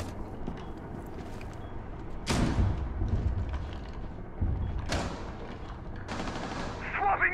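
Gunfire in the tactical shooter Rainbow Six Siege: sharp shots at about 2.3 and 5 seconds and another burst near 6.1 seconds, standing out over a steady game background.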